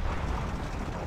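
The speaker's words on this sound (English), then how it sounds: "I heard a rocket." A rocket explodes in Men of War: Assault Squad 2, a loud, sustained rumbling blast with broad noise that fills the whole moment without a clear separate onset, heard alone with no talking.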